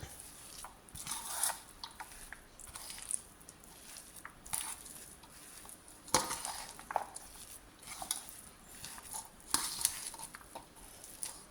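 A spoon stirs purple yam vada mixture with chopped onion and asafoetida in a bowl, making faint irregular scraping, clinking and squishing sounds close by.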